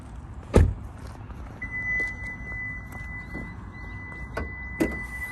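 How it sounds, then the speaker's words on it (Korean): A sharp thunk of a Hyundai Ioniq 5 hood latch releasing, followed by soft clicks and a thin electronic whine, then another clunk near the end. "본네트를 열어주고요."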